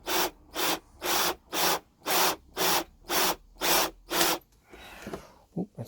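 A blunt drill bit bores out a screw on a Skipper 17 trailer sailer under renovation. Nine loud, evenly spaced grinding bursts come one after another, each about half a second long, and then fainter scraping and handling noise follows.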